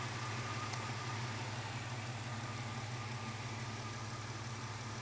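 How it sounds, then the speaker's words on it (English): A 2000 Jeep Cherokee 4x4 engine idles steadily and smoothly without knocks or misses, a constant even hum at moderate distance with no talking. "Good sounding engine. No knocks or pangs,"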